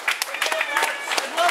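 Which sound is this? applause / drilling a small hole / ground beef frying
applause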